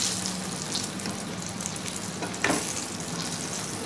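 Breadcrumb-coated chicken drumsticks fry in oil with a steady, close hiss and soft crackle, one sharper pop or clatter partway through, no talking.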